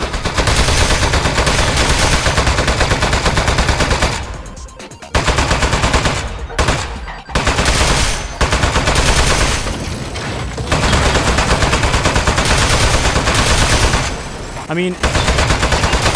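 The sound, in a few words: turret gunfire in Aperture Desk Job video game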